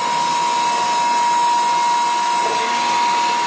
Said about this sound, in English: we call that automatic downfeed on the tool head